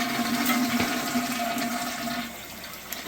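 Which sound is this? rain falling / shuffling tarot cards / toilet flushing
toilet flushing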